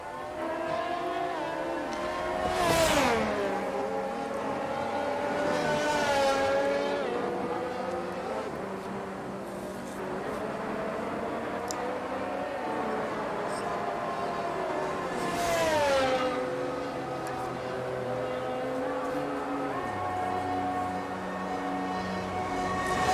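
A Ferrari race car engine in a racing video game, revving in long rising and falling sweeps that climb and drop through the gears, loud and continuous throughout.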